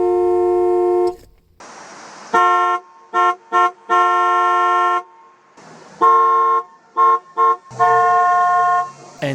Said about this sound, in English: right in between there is your steering wheel, which you could use to honk at stuff